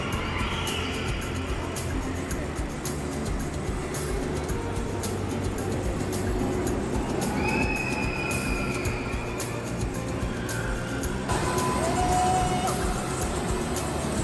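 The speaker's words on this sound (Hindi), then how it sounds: "इसकी बाकी के जो अंदर कोस्टर्स हैं देखें, वो भी गोल गोल मूव हो रही हैं" Cars of an indoor roller coaster inside a large mall entertainment centre rumble along the track with metallic wheel squeals and high whines, continuous and moderately loud amid busy indoor ambience.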